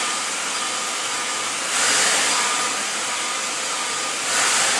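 A regular blow dryer drying curly hair, a loud, steady airy roar that shifts in tone twice as the airflow changes, continuous throughout with no talking.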